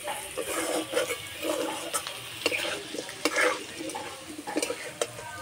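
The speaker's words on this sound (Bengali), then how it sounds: "আলু আর গেঁড়ো বেশ লাল লাল করে ভেজে নেব।" Potatoes and taro frying in a pan while being stirred, with a steady sizzle under repeated scraping and clinking strokes of a spatula against the metal, close by.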